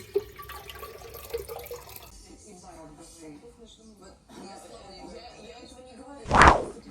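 Kitchen tap water running during tea preparation, a soft trickle and splash with light clinks, then a brief loud gush near the end as the flow hits the sink.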